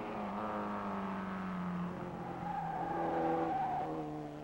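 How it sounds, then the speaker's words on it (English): Vintage sports racing cars, including under 2-liter Porsches, circle Mosport in 1962, engines droning and shifting pitch as they pass at moderate distance, a continuous layered hum of several motors with no voices. "the under 2-liter Porsches are going like clockwork"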